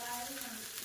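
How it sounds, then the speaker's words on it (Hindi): Chinese food being stir-fried with chili sauce, soy sauce, vinegar and salt, a loud continuous sizzle and hiss from the hot pan with a faint tonal hum underneath. "इन्हें अच्छे से मिक्स करूँगी और फ्राई करूँगी"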